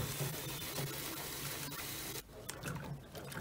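LAY-Z-SPA hot tub filters being rinsed out, a steady gush of running water that briefly breaks off partway and then continues with splashing.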